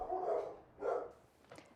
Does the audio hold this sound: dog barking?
yes